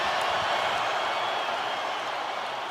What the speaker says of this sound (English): take your headsets off and just listen to this crowd